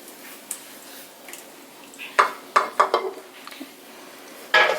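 Dutch baby pancake batter being mixed with melted butter, giving a few sharp clinks and scrapes of a utensil against a bowl in uneven bursts over a quiet kitchen background, with no talking.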